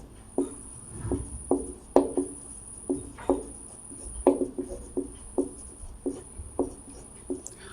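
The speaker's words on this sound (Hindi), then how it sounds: "इसको हम इस रूप में लिखेंगे।" A maths formula is written out by hand during a class 12 board exam lesson, giving a series of short, crisp pen or chalk strokes in an uneven rhythm, close and fairly quiet, with no speech over them.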